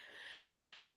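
A single sharp sneeze from a person close by, a brief breathy burst followed by a short gasp-like intake and the start of another noisy breath.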